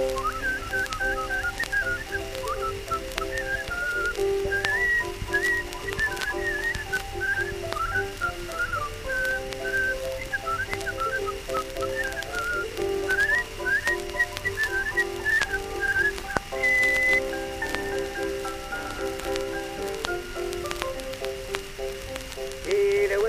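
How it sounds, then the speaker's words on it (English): A man whistles a lively, meandering tune, close and continuous, over a steady background hum and faint patter. "this is the way he whistles that too"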